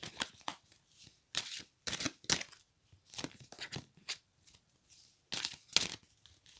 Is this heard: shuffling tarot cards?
yes